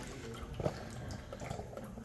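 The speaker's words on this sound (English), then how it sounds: "now all I'm doing is I'm letting it drip out into the pan" Automotive fluid drips steadily from a removed filter into a drain pan below the car, a soft, fairly faint trickle with a small splash near the middle and no voices.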